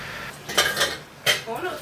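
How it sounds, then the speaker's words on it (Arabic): A spoon turning tomato and peppers over onions in a pan for a sausage tray, giving two or three brief scraping and clinking strokes against the metal, close and fairly loud. "قطعت قوطه وفلفل على البصل وهقلب كده"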